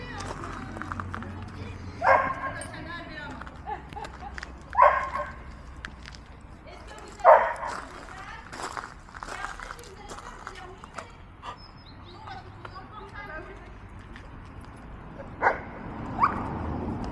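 Dogs barking outdoors, including black dogs running uphill: several sharp barks and yips spaced out over a stretch of rustling, moving ground noise at moderate distance, with a person talking at times.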